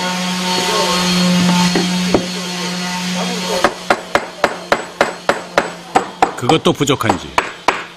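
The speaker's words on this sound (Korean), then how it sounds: "나무망치로 두들기며 한 번 더 손을 본다." Wooden mallet pounding a square wooden bathtub during assembly in a bathtub factory: after a steady hum and a single knock, a series of sharp, loud, close wooden blows follows in a quickening rhythm, with a brief voice.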